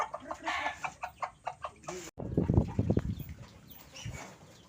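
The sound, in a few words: Brahma chickens clucking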